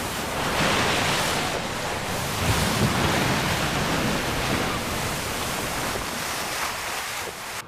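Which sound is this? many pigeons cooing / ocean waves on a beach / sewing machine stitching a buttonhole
ocean waves on a beach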